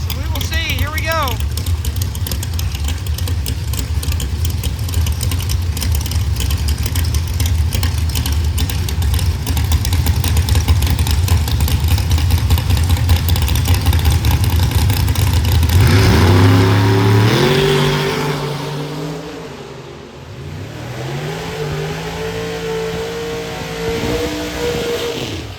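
Drag race cars at Beech Bend Raceway's 4.70 and 4.50 Outlaw Racing event sit rumbling loudly at the line, then launch with rising engine roar that fades and returns as they run down the track, with crowd or announcer voices underneath.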